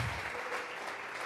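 A church congregation applauds during a Sunday service, a dense, steady wash of clapping from many hands filling the room for the whole short stretch.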